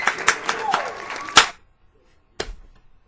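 Crowd applause sound effect: a burst of clapping and crowd noise for about a second and a half, cutting off abruptly, then a brief second burst after a short silence.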